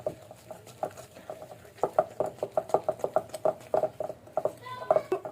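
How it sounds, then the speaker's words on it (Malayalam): Butter and sugar are being mixed in a bowl for a plum cake, producing quick, regular clinks and taps of a utensil against the bowl that speed up into a steady rhythm. "പഞ്ചസാരയും കൂടെ ഒന്ന് മിക്സ് ചെയ്ത് വെക്കാം കേട്ടോ"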